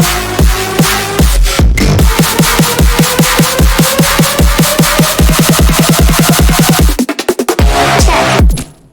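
Dense synth effects rush toward an electronic build-up, with rapid repeating pulses that speed up and rise over a wide noisy wash, then a brief stuttering cut near the end; loud and alone.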